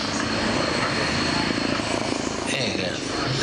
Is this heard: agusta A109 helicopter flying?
yes